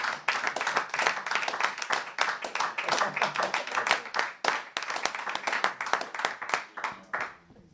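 A church congregation clapping together in praise, a fairly near burst of many hands in a quick, uneven rhythm that lasts several seconds before tapering off, with a little speech mixed in.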